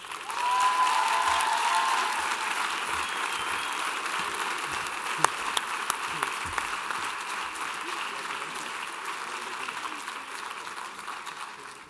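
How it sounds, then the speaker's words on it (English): Loud, sustained applause from a crowd at a graduation ceremony, thick continuous clapping that holds strong for a long stretch with a few sharper claps standing out. "the applause was so loud you lost the second name"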